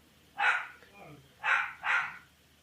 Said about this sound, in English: Even a barking dachshund in the background.